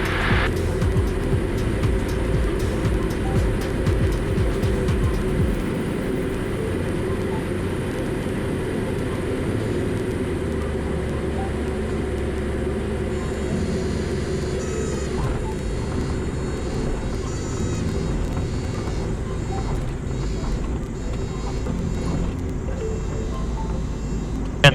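A light airplane's engine drones steadily from inside the cabin on landing approach, with a slight drop in power partway through.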